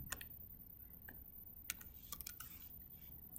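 Typing on a computer keyboard, faint and close, with irregular bursts of light key clicks and taps scattered over a quiet background.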